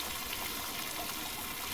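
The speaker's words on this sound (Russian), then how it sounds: "Я сейчас водички наберу." Water being collected in the jungle survival game Green Hell, a steady dense rushing and gurgling wash that holds constant and fairly faint, with no voices.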